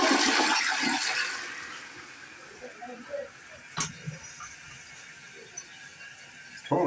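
A toilet flushes with a loud rush of water that fades into quieter refilling trickles, with a few soft clicks and knocks close by.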